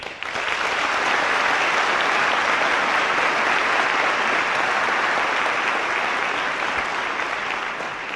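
A large audience applauding loudly at an evening lecture, dense continuous clapping that stays strong and even throughout before easing a little near the close.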